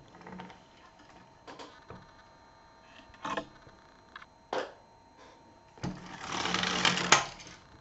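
A home knitting machine carriage is pushed across to knit a garter stitch row: several short mechanical clacks and rattles, then a longer, louder whirring slide near the end, close and without talk.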